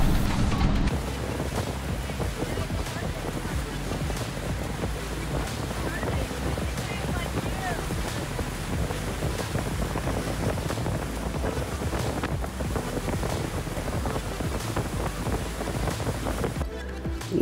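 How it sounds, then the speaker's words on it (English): Steady, loud wind buffeting the microphone throughout, with lake water lapping and washing around a MacGregor 26 sailboat underneath. "Wind picked up a little bit."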